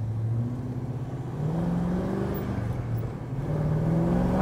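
1955 Chevrolet Bel Air restomod accelerating from the driver's seat, a steady mid-loud engine note with harmonic tones climbing gradually as speed builds, alone without talk.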